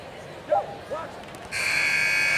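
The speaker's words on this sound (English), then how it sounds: "Final buzzer sounds" A steady electronic final buzzer in the NBA 2K21 basketball video game sounds after a couple of ball bounces, sustained and loud at the end of the game.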